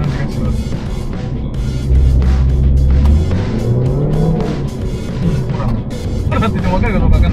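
A Mini Cooper S engine revs up loudly, rising and holding its pitch, with a person talking over it throughout.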